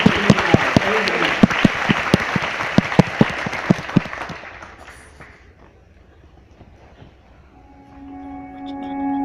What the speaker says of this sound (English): let's give them a big clap for all the girls that receive Christ in their life